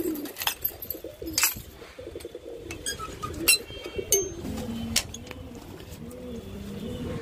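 Pigeons coo softly and repeatedly at close range, with occasional sharp clinks and flutters around them in a quiet setting.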